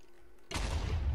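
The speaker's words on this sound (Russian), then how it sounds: "Я наступил на какую-то ловушку, и тут всё взорвалось" A trap going off in the Minecraft video game, a sudden loud explosive blast that starts abruptly after a quiet moment and rumbles on to the end.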